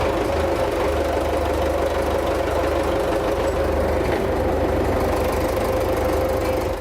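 A Ural tractor engine running right after assembly, a loud, steady, close knocking idle with an even drone that holds for the whole stretch, no voices.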